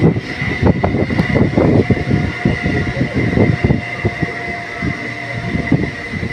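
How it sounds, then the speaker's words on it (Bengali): A train pulls away from Debipur station, with a steady rumble of wheels and carriages, rhythmic clatter on the rails and a high mechanical hum, loud and close throughout, in rainy weather. "দেবীপুর থেকে ট্রেনটা ছাড়ছে"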